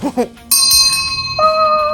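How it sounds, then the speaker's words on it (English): A bell rings twice with bright, sustained metallic tones that linger and ring out, preceded by a short bit of speech. "Ring the bell."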